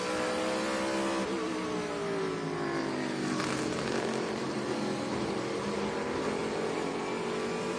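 Trans Am race cars at Canadian Tire Motorsport Park, with steady loud engine drone and pitch sweeps as cars accelerate and pass, continuous and close, with no pause in the roar.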